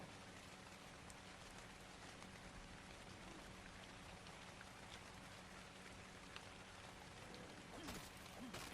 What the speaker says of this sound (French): Et bienvenue dans un temps de pluie sur Ragnarok de nouveau